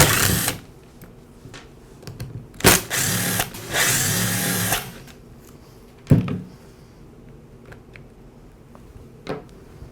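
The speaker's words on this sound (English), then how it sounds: "The handle assembly is secured with 5 screws plus 1 anti-rotation screw. I'll split the 2 halves by removing those screws." Screws being removed from the handle assembly of a Ryobi string trimmer, with a short whir of a driver, clicks and plastic rattles, close and intermittent with quiet gaps.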